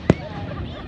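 A single loud firework bang goes off near the start, sharp and brief, then fades into a quiet background with faint voices.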